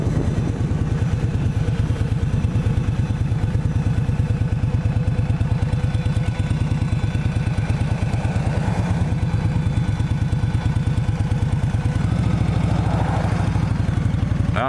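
A 2017 Indian Scout cruiser motorcycle rides over gravel, its engine a steady close pulsing rumble throughout with faint crunching and clatter mixed in, and no talking.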